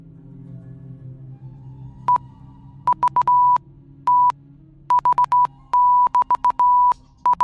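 Bursts of electronic beeps at one steady pitch, some short and some held longer, tap out an irregular Morse-like pattern over a low background hum, loud and close, as a robot runs its system diagnostic.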